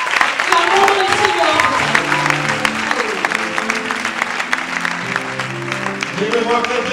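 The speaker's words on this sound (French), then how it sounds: "Acclamons ici" A church crowd applauds and cheers for the director of a radio station. The clapping is dense and sustained, with voices and a musical tone running underneath.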